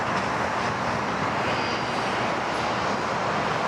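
A Fiji Airways airliner at Sydney Airport gives a continuous broadband jet roar, steady and fairly loud throughout with no pauses and no voices.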